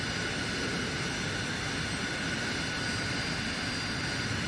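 An aircraft engine in the Arma Reforger (Enfusion) video game drones steadily and loudly while the plane taxis, with a constant, unbroken roar throughout.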